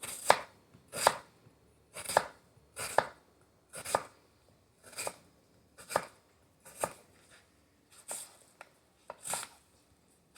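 A small knife chops into wood like an axe, delivering about ten sharp, evenly spaced thunking strikes, close and distinct against a quiet background with no talking.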